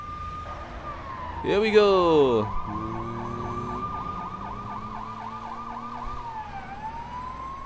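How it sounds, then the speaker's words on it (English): Police car siren in the video game Lego City Undercover: a short burst of rising, layered effects gives way to a steady rapid wailing whoop that cycles for several seconds, then stops, while someone speaks briefly over it. "Had to turn off the siren on this thing."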